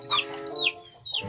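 Chickens cluck close by in a few sharp, quick calls with brief pauses between them.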